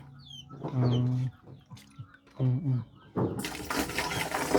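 A chicken with an injured leg clucks close by in a few short throaty bursts, followed by a stretch of splashing, hissing noise.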